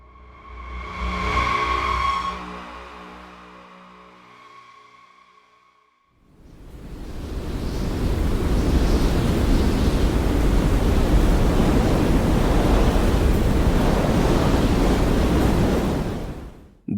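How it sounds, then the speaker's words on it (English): Hurricane-force wind roars as a loud, steady howling gust in a horror audio drama, rising after a quieter tonal musical passage and sustaining continuously to the end. "The hurricane-force wind was now threatening to lift Ekta and Baba off their feet."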